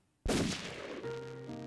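A single gunshot from a gun in the game Ghostpia cracks out sharply after brief silence, then rings into a sustained tonal tail of game music or ambience.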